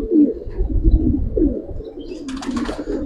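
A large Giribaz pigeon gives low, rolling coos close by, several phrases in a row, with a brief higher rustle or flutter near the end.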